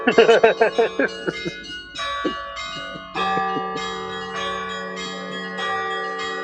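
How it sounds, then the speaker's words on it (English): Handbells played by one performer working several bells with individual fingers on both hands, a quick run of bright ringing strikes opening into sustained overlapping tones that linger. "he has to coordinate the bells individually with his fingers"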